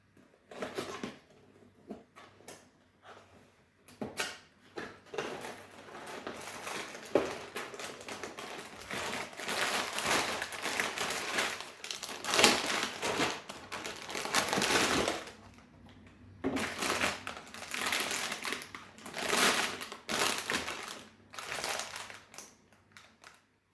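A LEGO Technic Lamborghini Sian FKP 37 set box, number 3, torn open by hand: repeated cardboard rips and plastic bag crinkles in bursts, close and fairly quiet, no voices.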